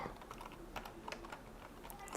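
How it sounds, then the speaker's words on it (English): Typing on a Sun Unix keyboard beside an HP PA-RISC workstation: a quick, irregular run of light keystrokes clicking close by, continuous over a low room hum. "I type on a Sun Unix keyboard."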